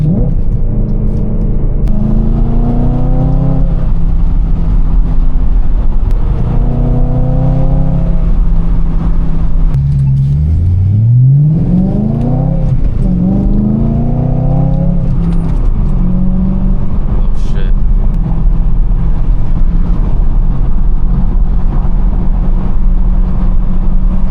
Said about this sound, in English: The exhaust, it sounds so bad right now with the rattle. You can hear the rattle like at certain RPMs.